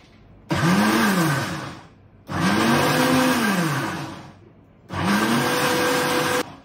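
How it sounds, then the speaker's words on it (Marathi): A kitchen mixer grinder runs in three separate loud bursts, each whirring up and cutting off after about a second and a half, with short pauses between. "हे कधी असं पूर्ण मिक्सर चालवतो तसं नाही चालवायचं, आपल्याला चालू बंद करायचं"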